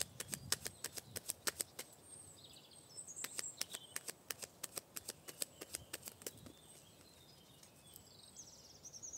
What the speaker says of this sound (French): Prends 2 autres cartes du coup